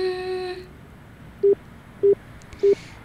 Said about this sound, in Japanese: 電話つないでいきますね。